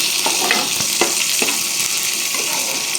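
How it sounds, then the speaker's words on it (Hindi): Chopped onions fry in a pan for an egg kheema masala, giving a continuous close sizzle broken by a few scraping stirs of the spatula, with no one talking. "प्याज को अच्छे से फ्राई कर लेंगे,"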